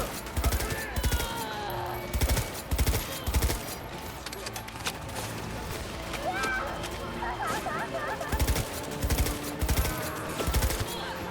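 Gunfire from the video game Cyberpunk 2077: repeated bursts of shots in quick clusters through the clip, loud and close, layered over a busy game soundscape with music and effects.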